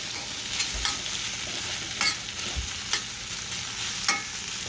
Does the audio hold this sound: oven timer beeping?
no